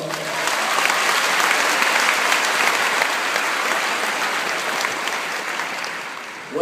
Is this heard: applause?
yes